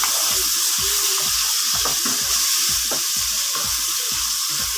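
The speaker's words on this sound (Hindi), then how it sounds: "तीन मिनट तक हम इसको फ्राई कर लेंगे।" Chicken sizzling in a pan with garlic, onion and ginger, a loud continuous frying hiss with repeated scraping stirs at a steady rhythm, no talk.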